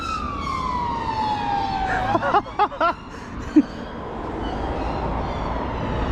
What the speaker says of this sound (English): I didn't even realise they were packed up next to me, and then they just put sirens on.